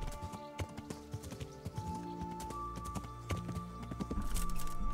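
Horse hooves in Kingdom Come Deliverance, a continuous series of clip-clop hoofbeats moving at pace, with a faint whinny tone running through and the strikes growing louder and denser toward the end.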